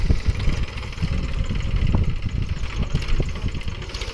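A tractor hitched to a reversible plough runs in a field, its diesel engine chugging steadily at a low, even throb with rough pulsing texture and no voices.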